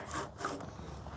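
A hand saw cuts through wood at a house build, rasping in a couple of short strokes, fairly quiet and heard alone.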